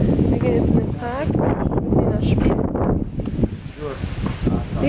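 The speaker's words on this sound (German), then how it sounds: "es ist bestimmt ein bisschen windig. Ich hoffe, ihr könnt mich hören" Gusty wind buffets the microphone in heavy rumbling bursts outdoors in a park while a person talks over it in German.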